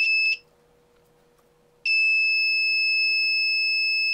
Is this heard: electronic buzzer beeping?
yes